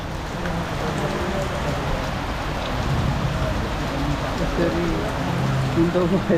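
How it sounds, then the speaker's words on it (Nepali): Steady rain patters on surfaces all around, a dense continuous hiss with scattered drops, and faint voices murmur underneath. "हिँडेको एकछिनमै पानी परिदिरहेको क्या अब"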